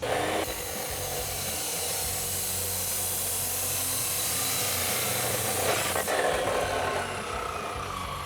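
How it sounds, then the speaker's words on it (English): A chop saw cuts through a 3-inch resonator delete exhaust pipe for a 2011-2019 Ford F150, a loud continuous high-pitched grinding whine held for about six seconds before winding down. "let's head over to the chop saw, make some quick measurements, cut this thing"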